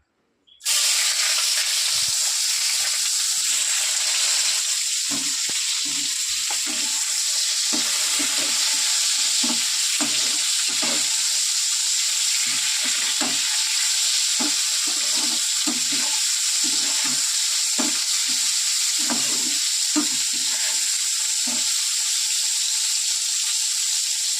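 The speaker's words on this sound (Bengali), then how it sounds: "এবারে এই যে বেগুনটা একটু ভেজে নেব" Eggplant sizzles and fries steadily in a hot pan, a constant loud crackle with occasional stirring scrapes, no voices.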